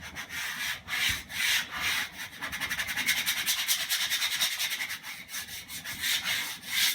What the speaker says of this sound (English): Burnish this.